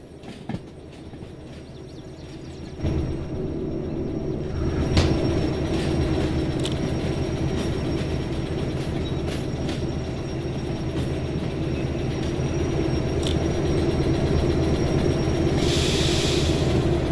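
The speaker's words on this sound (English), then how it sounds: "Why am I hearing brakes?" Train brakes in the Derail Valley railway simulator: a loud, sustained rumbling of rolling railcars with metallic clatter, a few sharp clanks and a thin high squeal running through, building slightly toward the end.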